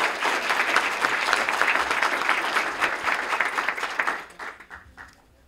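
An audience claps at a school awards ceremony, a dense, loud wall of applause from a full room that holds steady for several seconds and then thins out and fades near the end.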